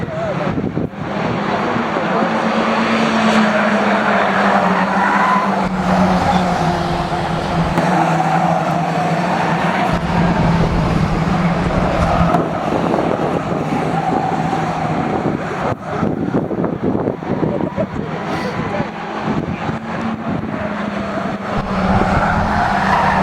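Race cars circle the Cowdenbeath Racewall oval, engines droning steadily with tyres squealing and skidding through the turns, heard continuously from an onboard position with wind buffeting the microphone.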